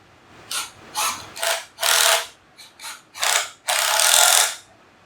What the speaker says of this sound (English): I like to have another clamp that kind of keeps things together, so I use one of these large bar clamps.